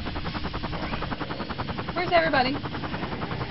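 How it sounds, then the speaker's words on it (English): A helicopter flies in the Killing Floor car mod video game, a steady rhythmic rotor chop that runs throughout and sits under a player's voice speaking mid-clip. "Oh, I just almost crashed this helicopter!"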